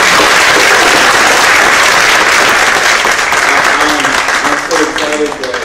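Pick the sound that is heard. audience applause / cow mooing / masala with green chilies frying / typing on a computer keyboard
audience applause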